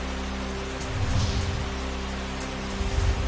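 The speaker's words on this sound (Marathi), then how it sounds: "सोलापुरातील माढ्यात पहाटेपासूनच मुसळधार पाऊस, जोरदार पावसामुळे बळीराजा सुखावला" Heavy pre-dawn rain pours steadily over Madha in Solapur, a dense continuous hiss with low rumbling swells, no voices present.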